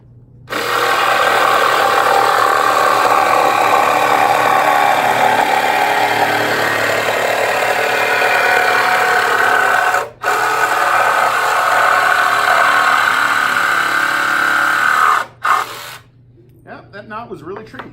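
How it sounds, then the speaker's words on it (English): A jigsaw saws steadily through wood in a long, loud, continuous buzzing run, briefly stopping twice before the cut ends. "And I'm going to use the jigsaw."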